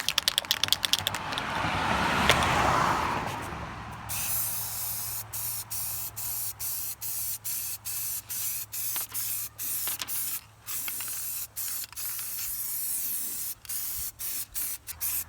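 Spray can laying clear coat onto car wheel rims: a steady hissing spray in repeated bursts, each broken by short pauses, loud and close with no talking.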